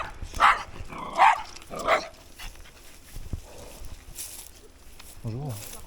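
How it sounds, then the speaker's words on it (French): Several dogs bark sharply at an off-road electric scooter rider, three loud close yaps in quick succession followed by fainter, more distant barks and a whine, over outdoor wind noise. "je me fais agresser par des chiens"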